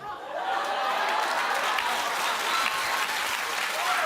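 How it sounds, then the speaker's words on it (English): A studio audience at a daytime talk show applauds steadily and loudly throughout, a dense continuous wash of clapping with faint cheers mixed in. "Keep clapping, everybody."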